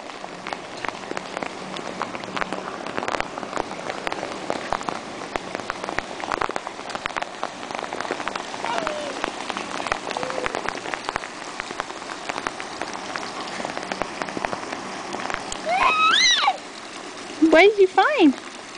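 Rain falling outdoors in May onto puddles, a steady broadband patter close by, with a voice chirping briefly near the end.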